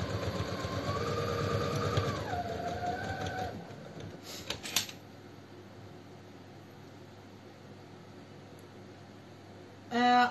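A sewing machine stitches around the edge of a purse with a loose, wide tacking stitch, a steady droning whir that shifts pitch slightly before stopping after about three seconds, followed by a brief clatter, quiet room tone and a loud burst at the end.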